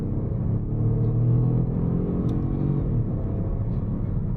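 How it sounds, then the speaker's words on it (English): Inside a slow, underpowered car held at full throttle, the engine drones in a steady, loud low rumble as it strains to gain speed, with a faint rise and no voices. "See, full throttle for ages, I'm still not even at 60 miles an hour."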